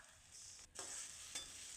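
Onion and spices sizzle steadily in hot oil for a curry, with a brief scraping stir partway through; close and continuous, with no talking.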